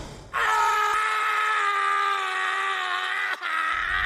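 A man's sustained, strained groan of pain for a horror story, one long loud tonal moan with a brief catch near the end before it resumes.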